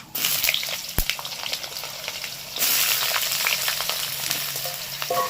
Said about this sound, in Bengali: এবার আলুটাকে ভাজতে দেবো